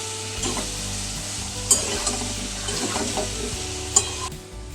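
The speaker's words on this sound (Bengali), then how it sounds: "এবার আমি একটুখানি ভেজে নেব।" Potatoes fry in a pan with salt and slit green chilies, a continuous close sizzle broken by a few sharp stirring clinks against the pan.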